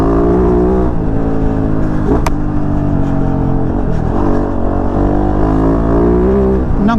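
A KOVE 450 Rally motorcycle engine revs loud and close, its pitch climbing and dropping through several throttle blips with a steady rumbling drone underneath and no talking.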